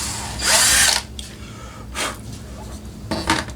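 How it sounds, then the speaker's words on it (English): An electric drill boring holes in aluminum for homemade snow skis on an RC airplane whines in three separate bursts, the first long and loud, the next two shorter, with quiet gaps between them. "I drilled holes in the aluminum"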